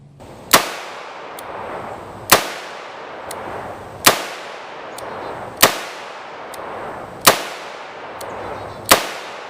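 Kimber K6XS six-shot alloy-frame revolver firing 130 grain full metal jacket rounds, six sharp loud shots at steady intervals of under two seconds, each trailing off in a brief echo, with faint ringing clinks between.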